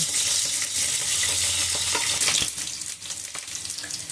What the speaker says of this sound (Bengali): এই যে এইটুকুখানি এটাকে এবারে ভেজে নিতে হবে দেখুন আমি তেলে পেঁয়াজগুলো দিয়ে দিলাম